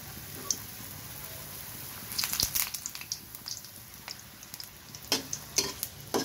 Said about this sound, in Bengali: এখন দেখেন, আমি ওই তেলেই আবার লুচিটা বানিয়ে নেব।